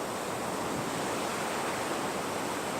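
Sea waves washing over a shore as the tide pulls out, a steady close broadband wash of surf with wind noise and no pauses.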